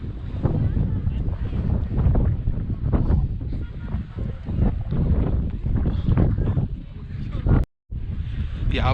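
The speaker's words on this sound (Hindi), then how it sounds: "बहुत ज़्यादा ठंडी है यहाँ पे, ठंडी ठंडी हवा चलती है" Cold mountain wind at Zero Point in Sikkim roars steadily and buffets the microphone with constant broadband rushing for the whole stretch, cutting out briefly near the end.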